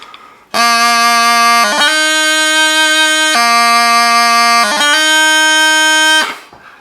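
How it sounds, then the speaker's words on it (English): Bagpipes play a closed, heavy D throw, loud and near: a steady chanter note over drones interrupted by brief ornamented gracenote bursts, then cutting off. "And then there's the closed or heavy D throw,"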